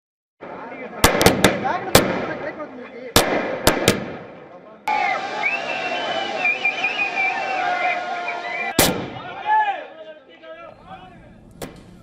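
Firecrackers burst by political party supporters celebrating outside the TVK headquarters in Chennai, Tamil Nadu: a run of sharp, loud cracks in quick bursts, then crowd noise with whistles, and one more crack later, over background voices.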